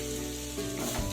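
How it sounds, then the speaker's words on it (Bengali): Chicken tossed back in with vegetables for Nepali-style chicken chow mein sizzles and crackles steadily in the pan, a dense close frying hiss with a brief stirring swell near the end, no voices. "চিকেনগুলো আবারও এই সবজিগুলোর সাথে মিশিয়ে দিচ্ছি"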